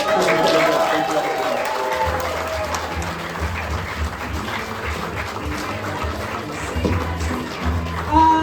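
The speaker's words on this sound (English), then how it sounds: "Let's keep that applause going for all my comics." Audience applause for stand-up comedians at the end of a comedy show, a sustained crowd clapping that stays loud throughout, with voices and whoops mixed in under it.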